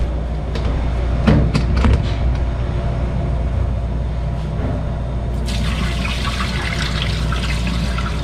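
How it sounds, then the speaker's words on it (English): Soaked homemade potato fries are drained of their water, a steady loud rush of pouring and splashing liquid that runs continuously, brightening into a hissier spray near the end, with no talking. "So what we're going to do now is we're just going to drain the fries."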